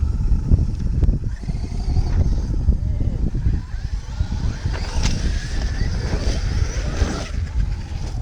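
A Traxxas Unlimited Desert Racer RC truck drives on an outdoor field, its electric motor whining and rising in pitch as it passes, with wind and people talking nearby.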